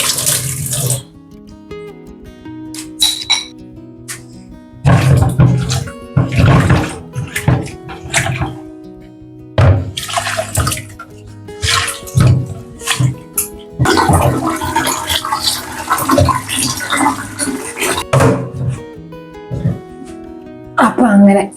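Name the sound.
washing fish in water with salt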